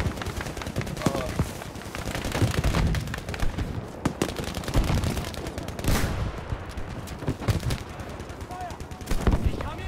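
StG automatic gunfire in a Battlefield game, dense rapid bursts and scattered shots throughout, loud and close, with players talking over the shooting.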